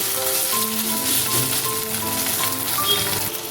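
Chopped tomato and onion fry in a pan with ginger-garlic paste for a light rohu fish curry, giving a steady, close sizzle and crackle throughout.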